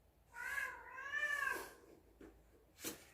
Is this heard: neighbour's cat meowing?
yes